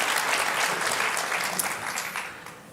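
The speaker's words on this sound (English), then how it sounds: "please give your warm applause" Sustained applause from a large audience at the NATO Public Forum, dense and steady clapping that fades slightly toward the end.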